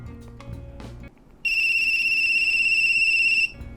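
An old PCT mobile handset rings with a steady electronic tone held for about two seconds, loud and close, after a short stretch of quiet background and faint clicks.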